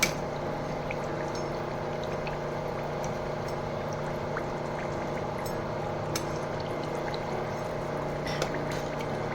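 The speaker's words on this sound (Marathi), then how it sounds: "असेच गोल्डन कलर येईपर्यंत फ्राय करून घ्यायचे." Mutter kachori deep-fry in hot oil with a steady, dense bubbling hiss and scattered small crackles and pops that continue evenly throughout, and no one speaking.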